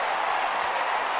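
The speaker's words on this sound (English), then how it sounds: "Oh, and this crowd is really going to be up and into it now." A stadium crowd cheering in the MLB The Show 16 baseball video game during a Royals versus Rangers no-hitter, a dense, even roar of applause and noise filling the whole moment without a break.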